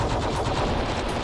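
Four guns on a multi-armed character in a video game fire at once, a dense, unbroken machine-gun rattle that stays loud and even throughout the short burst, with no talking.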